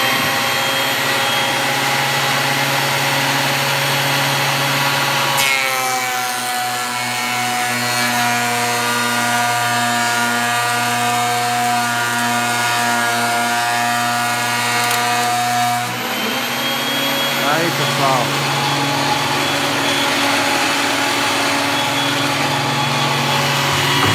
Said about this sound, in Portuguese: Vou ligar a máquina.